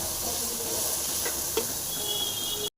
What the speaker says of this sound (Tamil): வெங்காயம் வந்து நல்லா ஃப்ரை ஆகிடுச்சிங்க